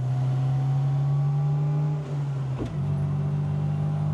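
A 1972 Opel GT's engine drones loudly and steadily from close by, with a brief sharp crackle of exhaust pops near the middle before the steady running resumes.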